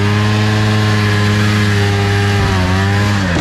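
A 1974 Panther 440 snowmobile engine runs loud and close with a steady, buzzy two-stroke drone, dipping briefly near the end as the throttle eases.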